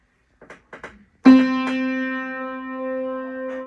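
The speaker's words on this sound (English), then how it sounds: "I recorded a single note from an old out-of-tune piano" A single note sampled from an old, out-of-tune piano rings out with a sharp attack and a long, bright sustain that slowly fades, preceded by a few faint, soft taps.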